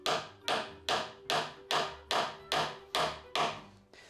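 A hammer drives a tapered wooden piece into a hole, striking eight evenly spaced, sharp, close blows, each ringing briefly before the next, with no talk.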